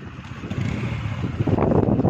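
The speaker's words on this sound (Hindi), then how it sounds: "और यहाँ पे हो रही है बाइक स्टार्ट।" A motorbike starts up outdoors on a waterlogged road, its engine rumbling and building toward the end over steady wind and traffic noise, with no talk.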